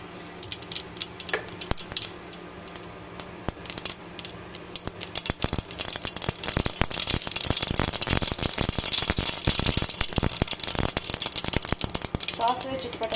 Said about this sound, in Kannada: ಸಾಸಿವೆ ಚಿಟಪಟ